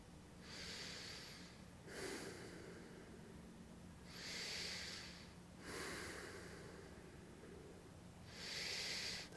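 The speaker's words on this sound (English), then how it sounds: "Again, breathing in through the nose," Slow, steady breathing in and out through the nose during a full-body stretching routine: four broad, airy breaths spaced about two seconds apart, close and fairly quiet, with no talking.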